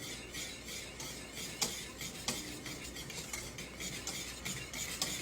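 A whisk works banana pudding custard back and forth in a pot off the burner, making a quiet, steady scraping swish with occasional light metallic taps against the pot.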